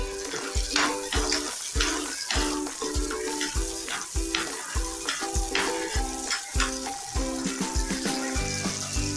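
Garlic and shallots sautéing in hot oil for a peanut chutney, a steady close sizzle and crackle running throughout, with rhythmic spatula taps against the pan repeating roughly every half second.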